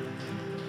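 Rain falls steadily on a surface, a dense, even hiss with soft pattering, close and unbroken, with no voices.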